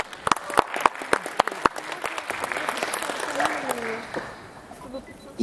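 Audience at a Russian music event applauds, with sharp individual claps at first that soften into a steadier wash of clapping, while a nearby voice speaks over it.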